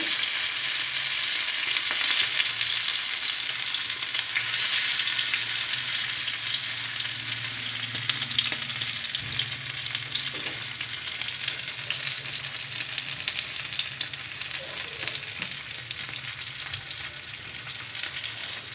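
Fish frying in a pan gives a constant, close sizzle that runs the whole time with a faint low hum beneath, easing slightly toward the end.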